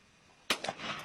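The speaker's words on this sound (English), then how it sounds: "Who's shooting?" A sharp firearm gunshot cracks out nearby, followed within a fraction of a second by a couple of weaker reports or echoes, over a faint constant background hiss.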